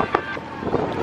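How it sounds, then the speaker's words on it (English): Wind buffeting a boat out on the water during a holiday boat trip, a steady rough rush with low rumble and gusty bursts, fairly close, alone without clear talk. "Quite windy though, isn't it?"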